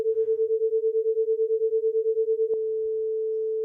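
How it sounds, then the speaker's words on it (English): Two steady sine tones panned left and right beat against each other in a smooth, regular pulsing wobble, then settle into one flat, unwavering hum near the end. "this is the binaural beat wobble"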